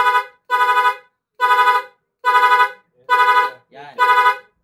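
A Suzuki Sniper 155 motorcycle horn honks six times in short, evenly spaced blasts, loud and close, with a brief buzzy engine-like sound between the last two.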